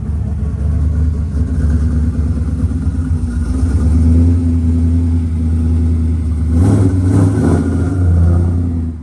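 A Kona Blue 2012 Ford Mustang Boss 302 V8 with Todd Warner cams thumps and revs loudly up close, a deep lumpy idle swelling into a few throttle blips near the end.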